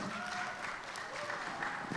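Steady applause from a seminar audience fills the clip, with a voice talking over the clapping.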